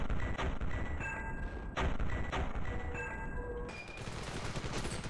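Blaster fire from the older Star Wars Battlefront video game snaps in quick repeated bursts, moderately loud, with short pauses and layered game effects in between.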